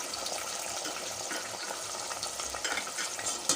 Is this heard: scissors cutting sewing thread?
no